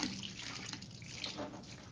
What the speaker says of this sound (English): let me rinse out the yarn.